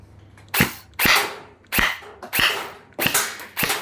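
An ARP556 electric gel blaster firing single shots outdoors, six sharp cracks at uneven intervals of roughly half a second, loud and close with nothing else in between.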